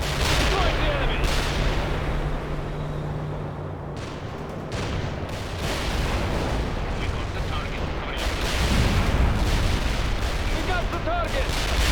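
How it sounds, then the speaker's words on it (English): Sustained, dense gunfire and artillery blasts in the World in Conflict strategy game, loud and continuous with overlapping shots and booms throughout, with game voices calling out in places. "We're under fire!"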